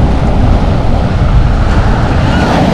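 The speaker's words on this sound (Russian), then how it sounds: "На берегу прохладненько так вот ветерок" Strong wind on the seashore at Lazarevskoye near Sochi, a loud, continuous rumbling buffet across the microphone mixed with a roar like surf, with no voices.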